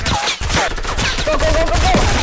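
Video game gunfire crackles in a rapid burst of shots with overlapping game sounds and effects, loud and dense across the short span.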